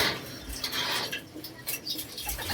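Racing pigeons feed in a loft, a soft steady rustle and peck of eating broken by low cooing and faint chirps, close and continuous with no talking.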